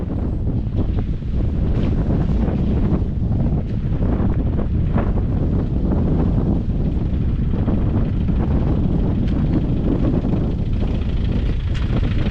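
Strong wind buffets a campsite in Bootle, Cumbria, a loud continuous roar and rumble of gusts hitting the microphone, steady for the whole stretch with no voices.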